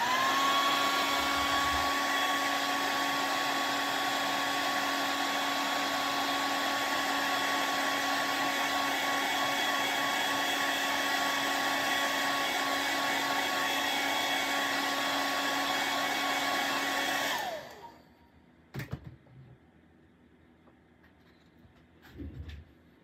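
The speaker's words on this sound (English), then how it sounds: "hair dryer again." A hair dryer blows loudly and continuously for most of the stretch, then switches off abruptly, leaving a few faint clicks and handling noises.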